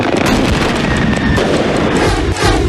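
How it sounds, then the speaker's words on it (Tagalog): Confiscated illegal firecrackers exploding in a burning pile at Camp Karingal in Quezon City, a loud continuous crackling barrage of pops and bangs with no pauses. "Camp Karingal sa Quezon City, nayanig ng sunugin ang mga nakumpiskang iligal na paputok"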